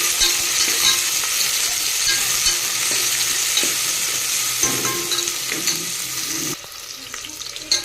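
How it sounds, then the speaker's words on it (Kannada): Onions stirred and fried in a pan for vegetable pulao give a steady, loud sizzle with scraping stir strokes throughout, easing slightly toward the end. "ಹಂಗೆ ಈರುಳ್ಳಿ ಸೇರಿಸ್ತೀನಿ. ಚೆನ್ನಾಗಿ ಮಿಕ್ಸ್ ಮಾಡ್ಕೊಳ್ಳೋಣ."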